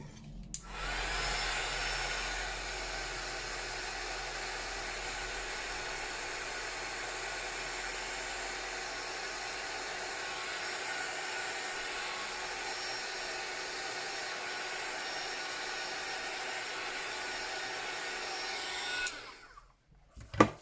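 A hair dryer blows steadily on wet paint on a handmade journal page, a loud, even whoosh that runs unbroken for about eighteen seconds before clicking off.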